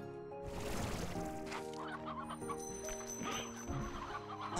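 Hens clucking in the video game Slime Rancher 2, a busy overlapping chorus of chicken clucks and murmurs, fairly close and continuous, set against a low game backdrop.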